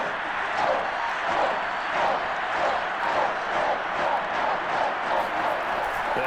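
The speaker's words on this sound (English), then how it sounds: "the crowd getting into it as we come up on a big 3rd down" A simulated stadium crowd in the Madden NFL 22 football video game roars steadily ahead of a big third down, a broad continuous wash of cheering and noise with gentle swells, heard without commentary.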